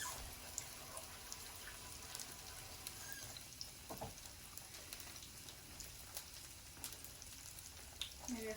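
Onion rings frying in a pan over medium-low heat for a breakfast, giving a steady soft sizzle and crackle with scattered small pops, fairly quiet and close, with no talking.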